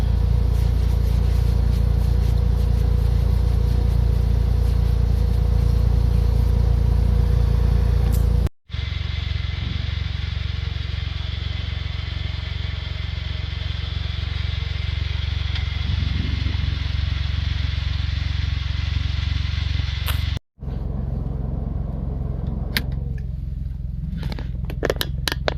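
A Smart ForTwo car's engine idling on a cold winter day, a steady low rumble heard from inside, cut by two brief dropouts and later carrying faint clatter.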